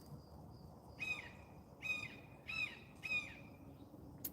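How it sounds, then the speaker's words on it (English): Four harsh, squawking bird calls from a hawk ring out at fairly even intervals over a quiet outdoor background, moderately near and clearly audible. "It's a hawk."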